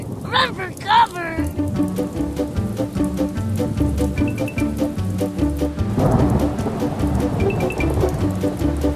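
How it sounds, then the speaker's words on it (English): Steady rain falls in the Barney: Secret of the Rainbow PC game (2009), a continuous hiss running beneath game music and a brief child-like voice near the start. "Oh, it's raining. We need to get inside."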